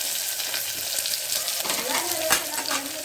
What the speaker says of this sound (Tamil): எண்ணெய் ஊற்றியாச்சு, வெங்காயம் போட்டாச்சு